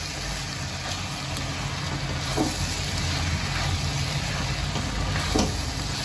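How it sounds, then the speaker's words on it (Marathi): Pasta cooking with cheese in a pan, a steady sizzling and bubbling hiss with a few soft stirring scrapes, no voices. "चीज बरोबर मी ह्याला अर्धा मिनिट चांगलं शिजून घेते"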